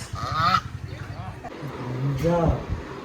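A duck honks a few times amid people talking at a rice ceremony shoot, the calls loud and close alongside the voices.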